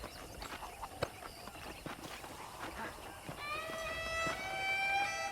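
Horse hooves clip-clopping on a ranch in the Red Dead Redemption game, a steady rhythmic clatter of hoofbeats, fairly close, joined near the end by a rising whinny-like tonal sound.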